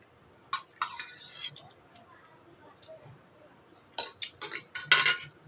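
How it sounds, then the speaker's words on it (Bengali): Spoons being washed by hand, with scattered metallic clinks and clatters in bursts, quiet pauses between, and a faint voice in the background. "এবারে 12-13টা চামচ সব ধুতে হবে এখন।"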